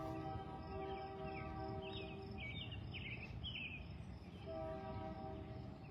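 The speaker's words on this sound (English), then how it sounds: "There's a train horn." A train horn sounds from a distance near a house, long sustained tones that hold, break off, and return over a steady rumble, while faint bird calls flicker above.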